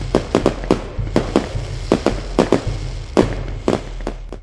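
Rockets and fireworks explode in a rapid, irregular string of sharp, loud cracks and booms, each burst ringing briefly, with low thumping rumble between them and no voices.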